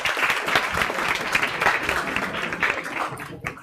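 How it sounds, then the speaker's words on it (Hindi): A crowd in a lecture class applauds with steady, dense clapping that holds for several seconds and then begins to thin out toward the end. "एक बार जोरदार तालियां देना"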